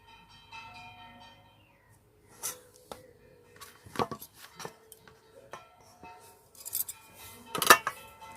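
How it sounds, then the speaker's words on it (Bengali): A fork presses a design into food for a child's school tiffin, a series of faint, sparse metallic taps and clicks against a plate, close and quiet with gaps between them. "এবার আমি এই যে কাঁটা চামচ দিয়ে একটা ডিজাইন তৈরি করে নেব"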